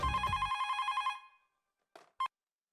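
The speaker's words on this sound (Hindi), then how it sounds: "अब मैं भी सारिस मामा का फोन लगाता हूँ" A telephone bell rings in a rapid trilling burst for about a second, followed by silence and two brief clicks as the handset is picked up.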